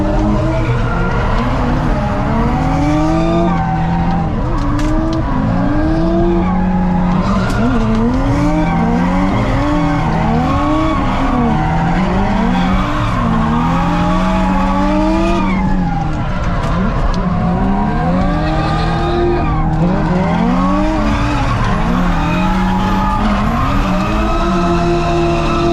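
Budget drift car sliding through a lap, its engine howling and rising and falling with throttle while tires squeal in long wavering shrieks, loud and continuous throughout.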